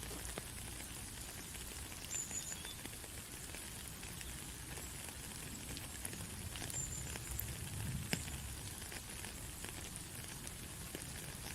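Steady rain patters on a surface, a continuous soft hiss with scattered small drops, fairly quiet and even throughout, no voices.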